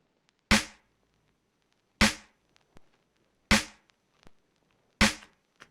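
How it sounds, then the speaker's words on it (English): Layered snare drum samples in an old-school sampled FL Studio beat: four sharp, bright snare hits spaced evenly about a second and a half apart, each with a short decaying tail, with faint softer ticks in between. "I'm using a combination of 2 snares."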